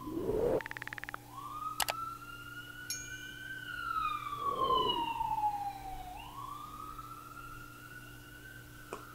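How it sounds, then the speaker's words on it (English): A siren wails from afar, its pitch rising and falling in long sweeps, with a few clicks and a brief rattle nearby. "I just heard that ambulance from all the way over there."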